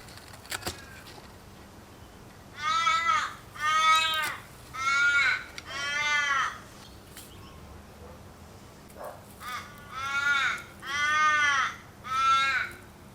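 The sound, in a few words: crows cawing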